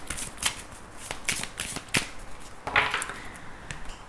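Lenormand fortune-telling cards are shuffled by hand in a series of quick riffling, flicking bursts, close and fairly loud, with no talking.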